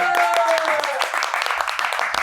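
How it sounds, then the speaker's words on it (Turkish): Studio guests on a talk show give a short burst of clapping, steady and fairly close, with a voice speaking over the start. "Kocaman bir alkış."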